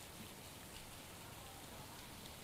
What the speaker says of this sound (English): the rain from Gordon still continues to fall